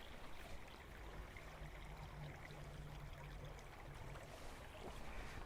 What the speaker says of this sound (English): The water is just trickling nicely through the bridge.